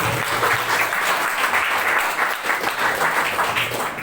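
A crowd claps steadily and loudly for several seconds, a dense continuous patter of many hands, without any voices.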